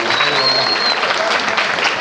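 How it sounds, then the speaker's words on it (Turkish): A crowd at a Trabzon Days event in Yenikapı, Istanbul, applauds continuously, the dense clapping mixed with voices, cheering and chatter. "güzel bir alkış istiyorum ben"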